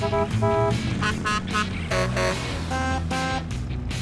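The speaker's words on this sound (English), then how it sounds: "Honk your horn." Cartoonish truck horn honks blare in repeated bursts over a busy, musical background, several short toots in quick succession followed by longer ones.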